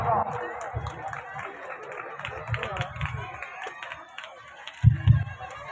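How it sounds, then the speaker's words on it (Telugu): A crowd at a Catholic church festival claps to honour a priest, loose, uneven applause under an amplified voice speaking over a loudspeaker, with a louder thump near the end. "మనందరం కూడా గట్టిగా చప్పట్లు కొడదాం"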